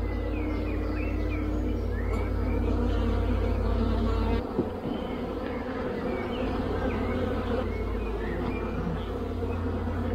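Honeybees hum steadily from an open hive being inspected, a dense continuous buzz close by with a few faint bird chirps and a brief handling knock midway.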